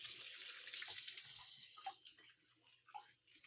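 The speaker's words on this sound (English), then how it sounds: "But I'm going to give my hands a quick rinse." Kitchen tap running as hands are rinsed under it, a soft steady splash of water that breaks up toward the end into small irregular splashes, fairly quiet with no talking.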